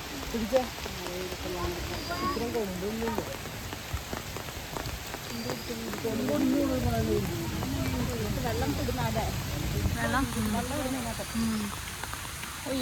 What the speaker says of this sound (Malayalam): മഴയും കൂടെ